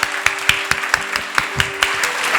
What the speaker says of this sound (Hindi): अभी भी ताली में गूंज नहीं है, हल्की ताली है.